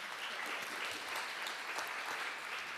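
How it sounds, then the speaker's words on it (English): An audience at a hybrid information literacy forum applauds a panel, a steady, moderately distant ripple of many hands clapping at an even level throughout. "A big applause for them."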